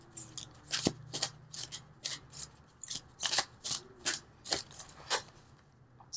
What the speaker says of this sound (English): So let's pull a couple universal love cards.